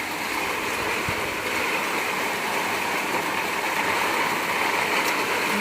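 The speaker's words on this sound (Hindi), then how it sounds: "और देखिए कितनी तेज बारिश हो गई है।" Heavy rain pours down in the first downpour of June, a storm with wind. It makes a steady, dense hiss that continues evenly throughout with no talk.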